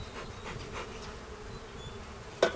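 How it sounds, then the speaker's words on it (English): Honey bees flying around a beehive in early spring, a steady close buzzing drone throughout, ending with a brief sharp knock. "that's why we have bees flying today"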